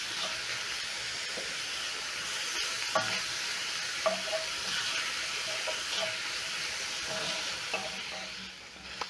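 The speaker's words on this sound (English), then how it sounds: "So at this point, I'm going to add in my onions, some ginger and garlic." Onions, ginger and garlic stirred as they fry in a pan for chips vuruga, giving a steady broadband sizzle with occasional soft scrapes and clicks of the spoon throughout.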